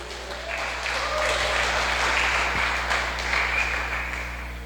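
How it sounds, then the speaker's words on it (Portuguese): A church congregation applauds during a celebration worship service, with steady, dense clapping that holds at an even level throughout under a low hum. "Dê uma salva de palmas para o Senhor Jesus."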